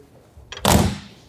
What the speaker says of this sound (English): Look, the door's closed.